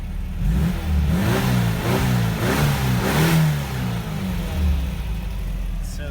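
A VW Vanagon with a Type 4 engine, freshly rebuilt and just started, revs up several times in a row, the engine note rising and falling in close, steady pulses.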